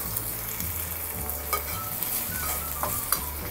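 Dry prawns stirred in a hot pan: a continuous close sizzle with light, repeated scraping strokes and a few sharper clicks.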